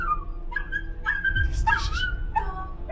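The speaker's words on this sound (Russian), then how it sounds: "Собака, похоже, сама выбралась с этой коробки." Dog whimpering and yipping with short barks inside a horror video game, several high whines rising and falling over about three seconds amid low rumbling game ambience, with no talk.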